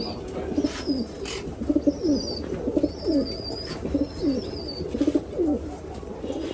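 Pigeons on a farm coo in a soft, steady rhythm, repeated throaty calls close by and fairly quiet, with a few higher bird chirps scattered above.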